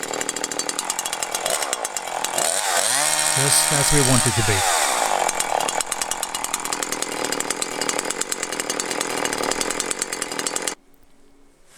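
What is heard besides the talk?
Husqvarna 345 chainsaw engine running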